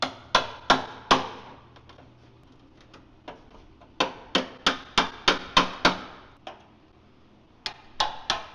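An old wood chisel struck by a hammer to peel the outer rocker skin off a salvage car, giving sharp, close metallic blows in irregular clusters with pauses between.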